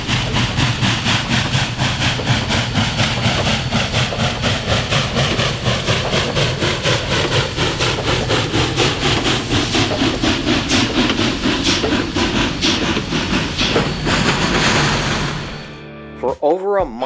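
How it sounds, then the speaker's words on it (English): Union Pacific 4014 Big Boy steam locomotive shoves a freight train uphill in Nebraska, a steady loud rumble with rapid chugging exhaust beats that goes on throughout and cuts off near the end. "For over a mile, 4014 continued to push the train in an attempt to get it up and over the hill."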